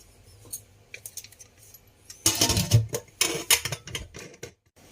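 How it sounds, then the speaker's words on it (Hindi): Several sharp metallic clicks and clatters, then a louder burst of clanking and scraping as a metal lid is fitted and locked into place, close by. "कुकर का ढक्कन बंद करते हैं।"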